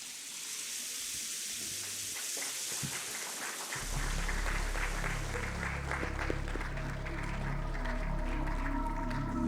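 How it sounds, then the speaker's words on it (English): A hall audience at a business chamber's grand-finale event applauds the unveiling of a souvenir booklet, a steady wash of distant clapping that swells and continues for several seconds under a low hum. "Let's have a round of applause for the Manthan 2023 15th edition souvenir."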